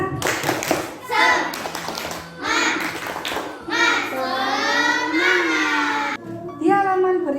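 Children clap in a classroom, a rhythmic burst of hand claps mixed with lively young voices and an adult chanting over them, loud and close throughout.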